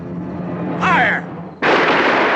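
A loud, close rifle volley from a firing squad booms out suddenly after a brief shouted command, the blast sustained to the end of the clip.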